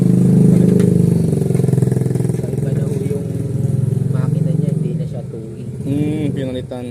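Carbureted 4-series engine in a Mitsubishi truck, running rough with a misfire, low power and fuel trouble: an uneven, close chugging idle with clattery pulses, mostly buried under someone talking near it.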